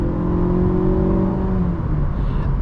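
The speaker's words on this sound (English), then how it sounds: "It takes a few seconds for those revs to really build up." A 2018 Mazda 3 Grand Touring engine drones steadily from inside the cabin, its revs rising gradually as it accelerates, loud and continuous.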